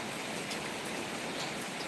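Steady rain falling on garden plants, an even, dense hiss of drops throughout, moderately faint and without voices.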